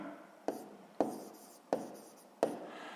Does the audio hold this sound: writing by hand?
yes